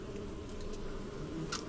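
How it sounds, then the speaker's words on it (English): Bees buzzing around a beehive in the Witches Legacy hidden-object game, a steady low insect drone that fills the whole moment with a faint higher flutter near the end, and no one talking. "Time to send the bees home."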